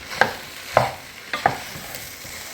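Spoon strokes stir lightly fried cabbage, carrots and potatoes in a pan, four or five distinct scraping knocks spaced about half a second apart over a faint sizzle, close by with no talking.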